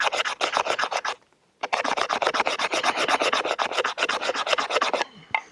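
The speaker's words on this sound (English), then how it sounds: "if I had a piece of fat wood and I needed to make dust with that" An LT Wright HC Bushcrafter knife scrapes fatwood into dust in a fast, steady run of close, loud rasping strokes, with a short pause after the first second before the scraping resumes.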